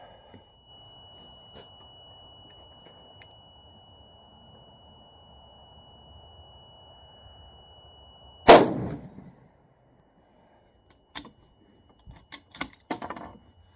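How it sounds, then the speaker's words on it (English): A Remington 700 rifle firing a .308 Hornady 178-grain AMAX hand load at a range: one sharp, loud shot with a short decaying echo, followed by a few fainter metallic clicks and clatter. "So let's shoot a couple more."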